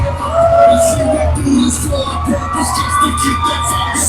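A live wrestling crowd at a tag team champions' entrance in High Point cheers and whoops steadily, with shouts and yells rising and falling throughout the noisy hall.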